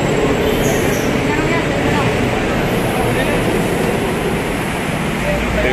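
A loud, roaring rumble of an MRT train passing close overhead at Muñoz Station fills the whole stretch, steady and heavy, with a faint high squeal near the start.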